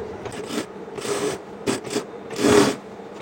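A sewing machine stitches the neck part of a georgette kameez lining in short, uneven bursts of whirring separated by brief pauses, close and moderately loud, with no talk.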